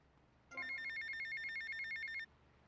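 A payphone rings in GTA Vice City, a rapid electronic trilling bell repeating steadily for almost two seconds, clear and alone over a quiet background before cutting off.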